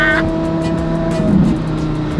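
A Porsche Carrera GT manual hypercar drives hard, its engine droning loud and steady from inside the cabin while an occupant talks.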